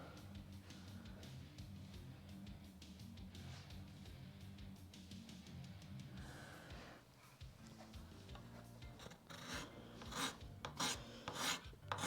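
Power tool cutting and removing wood from a heavy ash electric guitar body, a steady raspy grinding that runs continuously at close range and grows louder and choppier near the end, with no talking.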